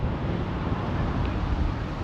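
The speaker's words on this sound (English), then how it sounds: "Awfully windy right now." Strong wind on the north shore of a Hawaiian island near windsurfers and a small sailboat, a steady broadband roar buffeting the microphone for the whole stretch, with no voices.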